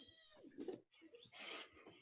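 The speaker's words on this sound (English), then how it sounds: "Those are the shrieking eels." Shrieking eels in a fantasy adventure film give short, quiet creature cries: a soft wail early on, then a sharper, brighter screech near the end, with near-silence between.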